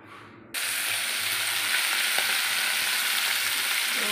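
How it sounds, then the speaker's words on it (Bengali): Fish frying in a pan in a home kitchen, a steady loud sizzle that starts abruptly and holds without a break. "এই মাছগুলো ভাজা করে নিচ্ছি"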